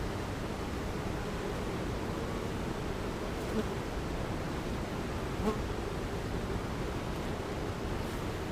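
A dense, steady hum of many calm honeybees droning together close by at the hive, continuous and even throughout with no talking.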